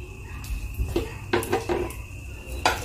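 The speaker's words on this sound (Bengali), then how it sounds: "এবার আমি এর মধ্যে ডালিয়াটা দিয়ে দিচ্ছি।" Broken wheat poured into a pot of boiled milk, giving a few soft clinks and scrapes of a utensil against the pot alongside a low background hum.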